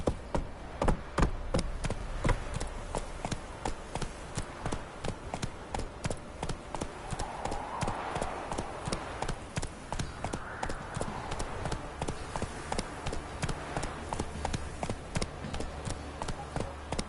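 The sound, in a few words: horse Roach galloping hooves in video game Witcher 3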